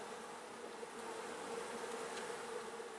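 Honey bees in a hive split buzz as a steady, faint, continuous hum of many insects close by, with no talking.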